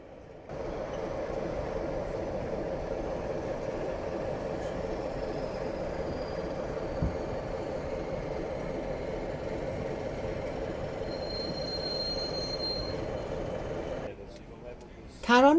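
Model trains rumble steadily along the twin main lines of an N-gauge exhibition layout with station loops and a small loco depot, a continuous low running noise beneath faint hall chatter, ending with a brief louder clatter.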